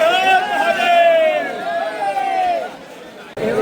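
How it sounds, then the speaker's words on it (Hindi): A dense crowd murmurs in a packed temple lane where people queue in a long line, overlapping voices and calls forming a loud, close babble throughout. "काफ़ी ज़्यादा भीड़ भाड़ देखने को मिल रही है यहाँ पे।"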